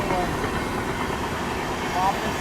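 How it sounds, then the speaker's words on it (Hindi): Prayagraj Express rolling past the Prayagraj Humsafar Express at the Govindpuri outer near Kanpur, a steady loud rumble of wheels and carriages with faint whistle-like squeals, continuous throughout. "भाई साहब प्रयागराज एक्सप्रेस ओवरटेक कर रही है"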